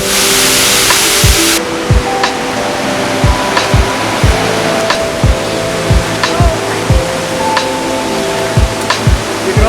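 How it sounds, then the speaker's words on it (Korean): Black Beaver waterfall in Agawa Canyon, Ontario, roars steadily and loudly nearby, while sharp knocking thuds repeat at an even pace about twice a second over the rushing water. "첫 번째로 도착한 곳은 블랙비버 폭포예요."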